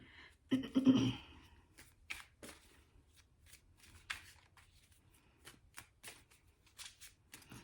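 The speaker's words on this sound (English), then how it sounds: "So I'm going to pull a little bit of clarifying cards here." Tarot cards are shuffled in a quick riffling burst, then pulled and laid down one by one as soft, crisp snaps and slides against a quiet room.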